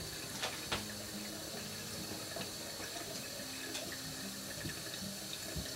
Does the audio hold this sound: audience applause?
no